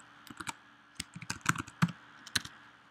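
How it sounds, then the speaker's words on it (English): Typing on a computer keyboard to enter a name into a web form, with bursts of sharp key clicks in irregular clusters, close and moderately loud, without talk. "We can go ahead and type like our name."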